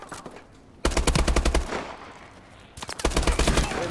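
Automatic fire from an HBR assault rifle in Call of Duty: Advanced Warfare: two loud, rapid bursts of closely spaced shots, separated by a short lull.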